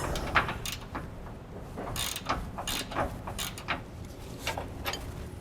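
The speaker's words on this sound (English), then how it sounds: "I'm just using a regular wrench and breaking it loose though on our head right here" A regular wrench ratchets a bolt loose during fitting of a rear anti-sway bar on a 2015 Ford F-53 chassis, with a series of quick, close metallic clicks and clacks repeating irregularly throughout.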